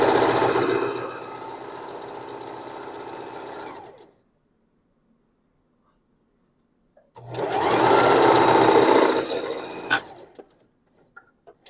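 A sewing machine runs a zigzag stitch along curtain edges in two steady bursts, each about three to four seconds long, separated by a silent pause. Faint clicks follow the second burst.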